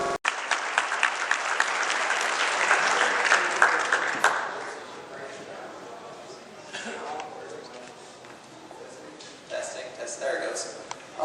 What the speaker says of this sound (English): Let's go ahead and give a round of applause for